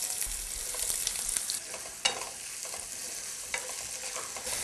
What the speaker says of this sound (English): Now to this I'm just going to add the onions.